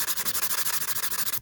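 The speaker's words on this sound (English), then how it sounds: "just gonna go back to some sandpaper now" Sandpaper rubbed by hand over a rainbow opal stone, a steady rhythmic scratching of about a dozen quick back-and-forth strokes, close and clear with no talking.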